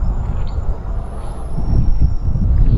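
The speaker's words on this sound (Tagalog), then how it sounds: "doon sa baba may highway. Kung may naririnig kayong sasakyan," Traffic on a highway far below rumbles in a low, continuous wash, heavy vehicles swelling and fading faintly at a distance with no talk over it.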